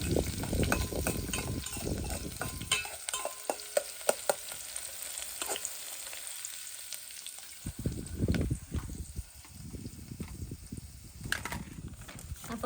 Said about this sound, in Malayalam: നമ്മുടെ എണ്ണ ചൂടായിട്ടുണ്ട് ഉള്ളി ആഡ് ചെയ്ത് കൊടുത്തു